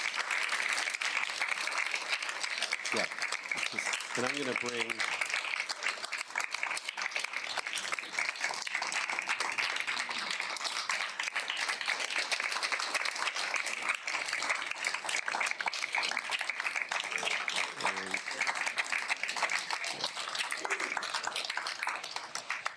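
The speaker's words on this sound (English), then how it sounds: "let's give all of our readers another big round of applause" A crowd at a banned books reading event gives sustained applause for the readers, dense steady clapping lasting over twenty seconds with a few brief voices breaking through.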